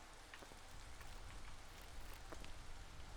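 Light drizzle in the Against the Storm settlement game, a soft continuous patter of raindrops on surfaces with occasional brighter ticks, steady and unaccompanied by speech.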